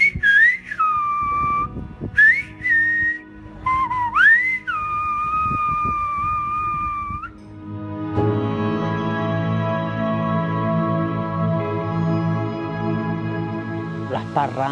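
Silbo Gomero, the whistled language of La Gomera: several loud, clear whistled phrases with sliding, rising and falling pitches. A low, steady droning sound with no whistling follows.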